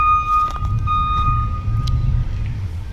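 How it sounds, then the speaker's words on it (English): A van pulls up close by with steady electronic beeping tones over a low rumbling engine, the beeps continuing evenly throughout. "It's a whole van that just pulled up right here while I'm filming and beeping and blinking and doing all kind of things."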